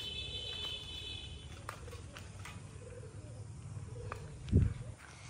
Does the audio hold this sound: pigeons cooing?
yes